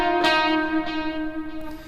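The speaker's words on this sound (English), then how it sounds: "And the melody sounds like this." A short, sustained electric guitar melody line, played with distortion, chorus and reverb; a few picked notes swell and hold, close and moderately loud, with no one talking.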